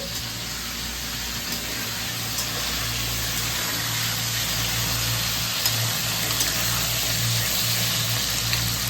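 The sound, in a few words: crab pieces added to hot oil, frying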